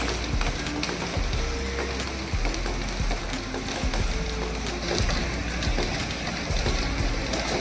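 Rain falls outdoors with a steady, dense patter and hiss, while faint low household sounds and a brief tonal hum come and go underneath.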